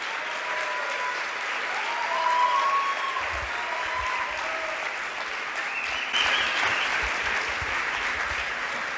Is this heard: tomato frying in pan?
no